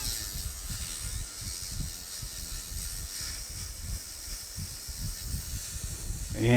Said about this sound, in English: This is a sanding operation.